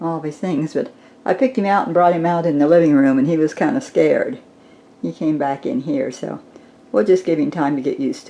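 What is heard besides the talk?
No distinct noise like a dog, phone or traffic.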